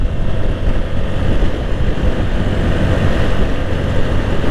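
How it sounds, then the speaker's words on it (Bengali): Strong wind buffets a motorcycle (Gixxer SF Fi ABS) crossing the Padma Bridge, a loud, steady low roar of gusting air and engine rumble across the whole stretch, with no voices. "পদ্মা সেতুর উপরে কিন্তু খুব ভালোই বাতাস ফিল করা যাচ্ছে"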